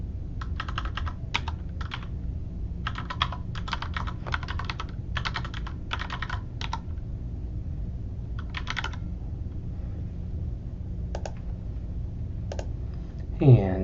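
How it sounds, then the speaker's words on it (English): Keys clatter on a computer keyboard as a website address is typed, in quick bursts of clicking with short pauses over a low steady room hum, ending in a brief louder bump. "then we're going to type in what the website is, or copy and paste it"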